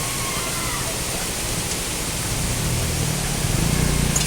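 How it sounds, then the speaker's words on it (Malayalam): Rushing water at Achankallu waterfall in Konnakkad, Kasaragod, a steady dense roar of falling water that fills the whole clip at close, loud range, growing slightly heavier toward the end. "വെള്ളച്ചാട്ടത്തിൻ്റെ അവിടെ എത്തി"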